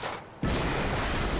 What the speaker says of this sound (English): Oh, I have to shoot him.